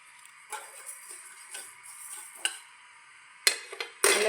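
Spices for pickle roasting in a pan, light intermittent scrapes and taps of stirring with a few sharper clinks near the end, quiet and close, no talk.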